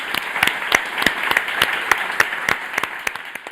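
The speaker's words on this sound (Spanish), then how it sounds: "le pido al público un aplauso para Belén López." An audience at a Spanish radio culture program applauds an author, with crisp individual claps standing out over a steady background of clapping that fades slightly near the end.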